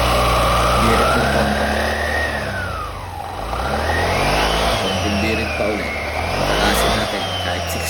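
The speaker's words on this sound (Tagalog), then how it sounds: "Oh, testingin na agad dyan sa motor. Ni Bossing NMAX version 2." A Yamaha NMAX version 2 scooter, tested just after a pulley set repair, revs up and down in two long swells, its engine whine rising and falling loudly and close.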